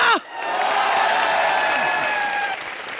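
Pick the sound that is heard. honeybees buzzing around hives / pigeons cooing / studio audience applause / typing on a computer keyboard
studio audience applause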